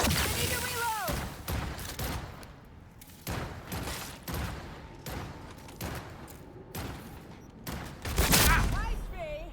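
Rapid bursts of gunfire from the video game Cyberpunk 2077 ring out loud and close in a repeated rhythm, with heavy thumps between the shots and a voice shouting over the fight.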